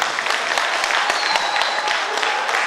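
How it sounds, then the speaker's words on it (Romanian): Steady, dense applause from an audience at a folk customs and traditions festival award ceremony, continuous and close throughout with no talk. "Aplauze."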